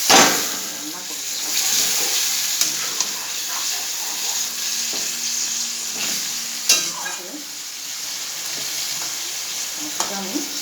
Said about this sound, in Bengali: আমি গ্যাসটা কমিয়ে আস্তে আস্তে রান্না করে দেবো